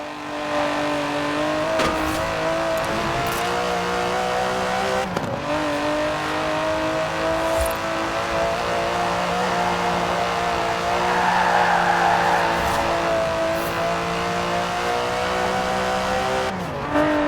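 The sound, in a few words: twin-turbo V12 sports car engine, video game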